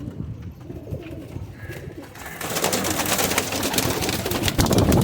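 Pigeons kept for pairing by a fancier coo and rustle among trees in an open loft, the soft calls close and steady and building to a busier, louder flock toward the end.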